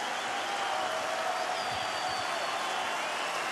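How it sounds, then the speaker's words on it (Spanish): A large festival crowd at Viña del Mar applauds and cheers in a steady, distant-sounding roar of clapping that fills the whole stretch evenly. "ahora escucha como el público te aplaude"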